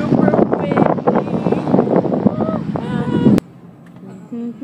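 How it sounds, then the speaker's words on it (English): Strong gusty wind buffeting the microphone outdoors, a loud continuous roar that cuts off abruptly, leaving quieter background, with voices talking through it. "It's super windy!"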